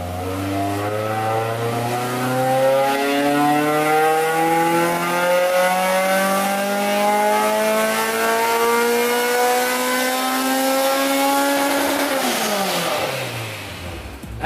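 A Honda S2000 on a dyno makes a wide-open-throttle pull from about 2,000 to 8,500 RPM with VTEC engaging near 3,500 RPM, its engine note climbing steadily and loudly in pitch for twelve seconds before dropping off as the throttle closes.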